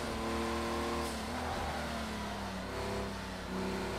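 A Porsche engine revving in a racing video game, a sustained buzzing roar that rises and falls in pitch with gear changes, loud and continuous with no talk.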